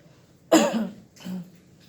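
A single person coughs sharply once, then gives a second softer cough or throat clear, close and clear against quiet.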